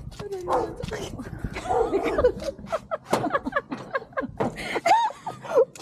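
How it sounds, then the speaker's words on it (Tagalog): A dog barking in short bursts, mixed with people laughing and chattering close by. "Yung aso nag-bark."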